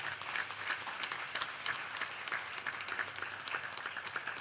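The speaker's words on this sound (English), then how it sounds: "Give those people a wonderful round of applause." An audience at a Ram Mandir anniversary yagna celebration in Mississauga breaks into continuous applause, a thick, even wash of many hands clapping at moderate volume from a distance.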